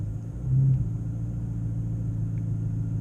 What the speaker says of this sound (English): the wonderful and glorious exhaust system that this vehicle has, which is the Fast Intentions exhaust